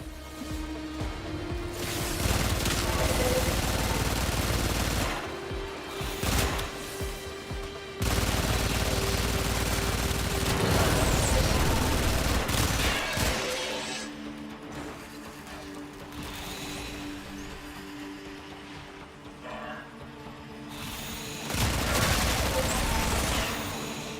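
Bursts of rapid automatic gunfire from the Warframe video game ring out in long loud stretches, broken by short quieter pauses with mechanical clicks.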